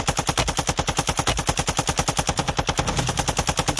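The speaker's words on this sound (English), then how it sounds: "The LTV is shooting at me." Rapid automatic gunfire from an LTV vehicle in Call of Duty Warzone 2, a fast, steady stream of loud, evenly spaced shots lasting throughout with no pauses, close and dominant, no voices.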